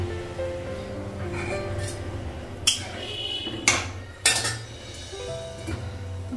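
Metal pot lid set onto a pot of eggs cooking in a home kitchen: a few sharp clinks and clanks close by, spaced over several seconds, over a low background hum.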